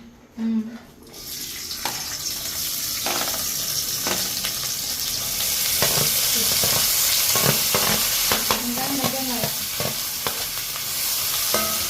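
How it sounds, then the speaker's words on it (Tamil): Onions fry in a pan with a steady, loud sizzle and occasional stirring scrapes and clinks, some faint voices in the background. "இப்போ நாங்கள் வெங்காயத்தை போடணும்"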